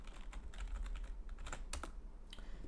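A computer keyboard is typed on in a short burst of light, irregular key clicks, close up and faint, with a low background hum and no voices.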